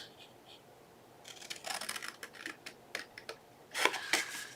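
Cardboard from a Tootsie Roll Pop box being cut, a series of short crisp snips and scrapes that grow louder and closer toward the end, with no talking.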